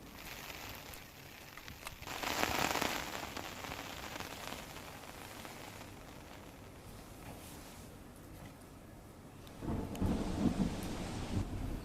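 Incessant monsoon rain in Banaskantha pours down as a dense, steady hiss, swelling louder in places with low rumbles of thunder beneath, a continuous outdoor wash with no talking.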